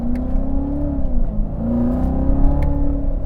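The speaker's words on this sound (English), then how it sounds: "the exhaust note in the Corvette is brilliant" Chevrolet Corvette C7 Z06 from 2018 accelerating hard, its exhaust note rising and falling in a steady, loud roar of revving as the engine pulls, heard up close with no talking.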